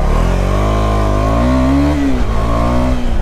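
Motorcycle fitted with an Akrapovic exhaust, heard from the rider's position as a loud, steady engine drone that swells and dips slightly in pitch with throttle changes, no talking over it.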